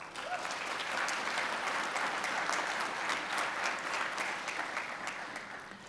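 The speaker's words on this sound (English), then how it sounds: "let's give them a round of applause" Audience applause at a spring commencement ceremony: steady, dense clapping from a large crowd in a hall, filling the whole stretch at an even level.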